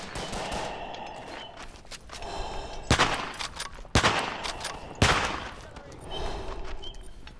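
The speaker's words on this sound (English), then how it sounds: "I'm just gonna shoot randomly into it." Rifle shots in the World War I trench game Verdun, three loud sharp cracks about a second apart standing out from a low murmur of distant battle and talk.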